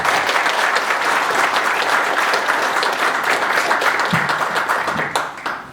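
Sustained audience applause fills a seminar hall, dense and steady clapping from many hands that fades out toward the end.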